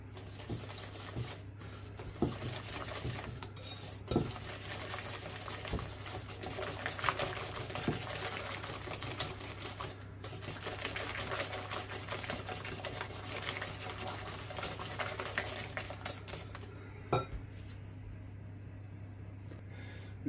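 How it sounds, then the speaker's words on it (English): Pumpkin puree stirred into batter in a bowl, a steady soft patter of mixing over a low constant hum, with occasional taps against the bowl, close and fairly quiet throughout. "So add the pumpkin puree to this, and again mix well."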